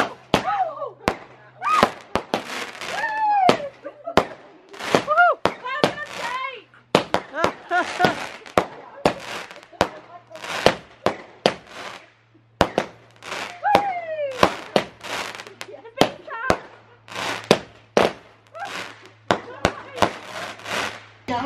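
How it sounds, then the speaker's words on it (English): Rapid crackling bursts and pops from small fireworks going off repeatedly, with excited voices shouting between and over the explosions. "It's like a little mini firework."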